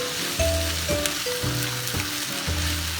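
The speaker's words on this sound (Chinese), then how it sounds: "直到豆角煸炒到已经有一些 干瘪" Green beans stir-frying in a hot wok, a loud close sizzle with rhythmic scraping strokes from tossing and stirring, and no voices.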